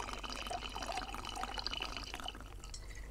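Watermelon juice being poured while a mocktail is mixed, giving a soft, steady liquid trickle with small splashes, quiet and close, with no talking.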